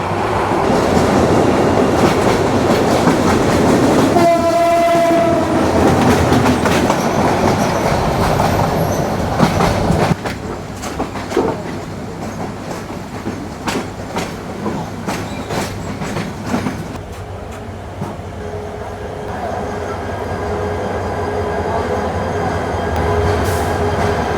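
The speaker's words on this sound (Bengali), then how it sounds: "নির্ধারিত সময়ের 40 মিনিট দেরিতে কমলাপুর রেলওয়ে স্টেশনের 3 নম্বর প্ল্যাটফর্মে এসে দাঁড়ালো সোনার বাংলা এক্সপ্রেস" The Sonar Bangla Express pulls into a platform at Kamalapur station, Dhaka, at night, loud rumbling wheels and clattering carriages with a brief squeal, then the noise eases as the train slows to a stop.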